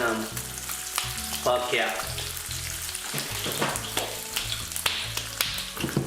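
Banana pancakes frying in a hot pan, with a dense, bright sizzle and intermittent clicks and taps of a utensil, close and fairly loud; a voice briefly exclaims over it.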